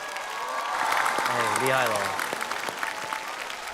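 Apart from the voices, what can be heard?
audience applause for a dance performance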